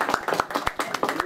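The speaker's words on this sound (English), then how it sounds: "when she comes to the door, let's everybody clap" A small group clapping as someone arrives at the door, a quick, uneven burst of close handclaps with voices mixed in.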